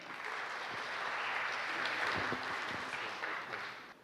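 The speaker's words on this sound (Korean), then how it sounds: "최신 스마트 카드 취약성 분석이라는 제목으로 발표해 주실 국민대학교의 한동국 교수님을 큰 박수로 맞이해 주시기 바랍니다." Audience applause at a smart card security conference talk in a lecture hall, welcoming a university professor to the stage; a steady, moderate wash of clapping through the whole stretch, with no one speaking.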